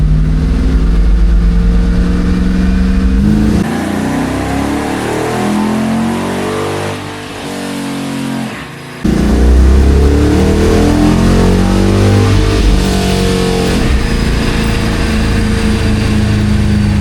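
A car engine in a stock build pulls hard on a dyno in second gear, a loud close rising rev that drops briefly at a shift or lift and then surges again at full power.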